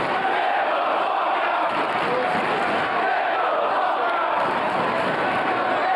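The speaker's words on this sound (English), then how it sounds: "The crowd's really getting on him now." A large wrestling crowd at an ROH event jeers Claudio Castagnoli, forming a dense, continuous roar that stays loud for the whole stretch.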